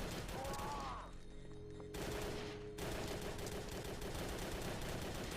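Dense, loud gunfire in the video game Drake, rapid bursts packed together over a constant roar, with a brief break in the middle.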